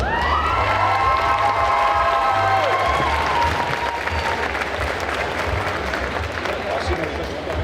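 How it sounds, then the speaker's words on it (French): Convention audience at a cosplay contest clapping loudly for a contestant, with cheers and shouts mixed in, while a voice speaks over the start; the applause stays strong throughout. "on applaudit très très fort Litchi"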